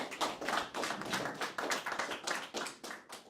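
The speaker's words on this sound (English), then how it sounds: "On peut t'applaudir parce que c'était une bonne présentation." Applause from a small audience after a presentation at a Rennes/Laval demo day, with dense rapid hand claps sustained at steady moderate volume throughout, no voices.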